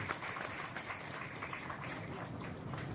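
Applause from an audience at a women's award ceremony in Bhavnagar, a steady dense wash of many hands clapping at moderate distance, continuous for the whole stretch with no talk over it.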